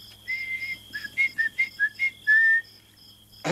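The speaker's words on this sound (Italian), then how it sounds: "il mio fischio si è arrugginito" Someone whistles a signal in a 1938 Italian film: a series of short, clear, high whistled notes in a halting rhythm, ending on one longer note, alone against a quiet background.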